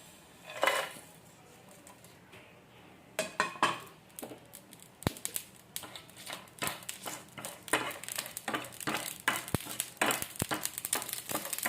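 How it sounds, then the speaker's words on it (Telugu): Whole spices for garam masala (nutmeg, shahi jeera, bay leaf, cinnamon and cloves) are dry-roasted and tossed in a pan. Irregular dry rattling, clinks and scrapes grow busier over time, with no talking. "ఇవన్నీ కొద్దిగా లైట్గా వేపుకోవాలి"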